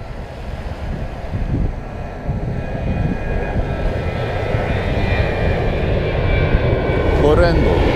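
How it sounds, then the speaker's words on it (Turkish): An airplane takes off, a steady broad roar of jet or propeller engines holding loud and even for eight seconds outdoors, with voices faintly mixed in underneath. "uçak kalkıyormuş"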